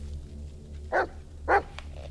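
A dog in the horror video game Blair Witch gives two sharp barks about half a second apart, standing out over a steady low hum in the background.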